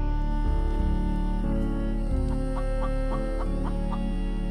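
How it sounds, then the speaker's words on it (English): A chicken in The Infected clucks in a short rhythmic series of soft calls, partly masked by a loud, droning music bed that runs throughout. "I hear that chicken."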